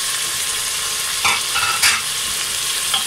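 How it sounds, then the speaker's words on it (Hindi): Spices go into meat frying for a cauliflower and mutton curry: a steady loud sizzle fills the pan, with a few short scraping stirs of a spoon, close up and without talking. "ये चारों मसाले अब हम इसमें डाल देंगे।"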